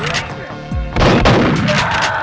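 Pump-action shotgun blasts in a Rare N64 first-person shooter come as loud, close booms, one short report followed by a heavier, sustained blast with a ringing tail, separated by mechanical clacks of the pump.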